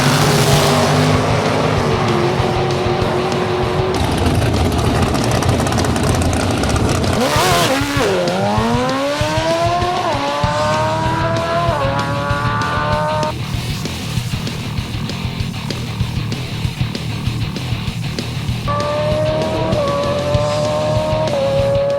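Loud engines roar continuously during a drag race run down the track, with rising pitch sweeps as a vehicle accelerates hard and shifts gears, close and sustained throughout.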